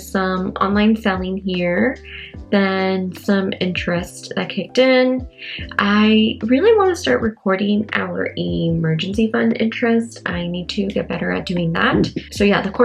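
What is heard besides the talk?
No everyday noises stand out.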